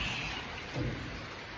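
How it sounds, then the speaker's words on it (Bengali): Steady rain falls with a soft, continuous hiss and patter, fairly faint and even throughout, with no voices. "বৃষ্টি এখনো পড়তেছে।"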